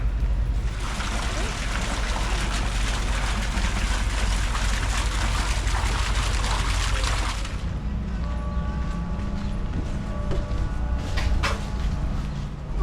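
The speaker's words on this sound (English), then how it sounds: "Fun little water fountain here." A small outdoor water fountain on Catalina Island splashes with a steady, broad hiss that runs continuously for several seconds before dropping to a softer background with faint chiming and distant activity.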